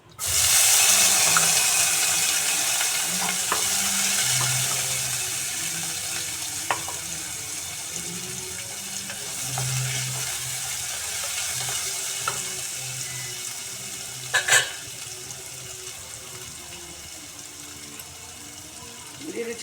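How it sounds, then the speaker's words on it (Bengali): Potatoes go into hot oil tempered with black mustard seeds and a dried red chilli, giving a loud burst of sizzle that settles into a steady frying hiss, with occasional stirring scrapes and clinks. "ফোড়নটা ভাজা হয়ে গেছে। দিয়ে দিচ্ছি আলুটা।"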